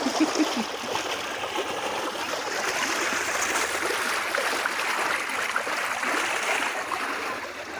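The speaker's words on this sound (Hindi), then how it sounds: "और ये पानी चलता हुआ" Irrigation water runs through a farm field in a steady, close rushing and gurgling flow that continues without a break, with no voices.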